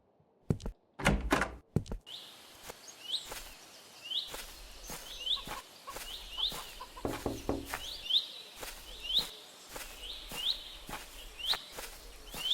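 In a horror video game, a locked door is tried with a few sharp knocking thuds in quick succession. A steady pattern of faint chirping ticks follows in the background.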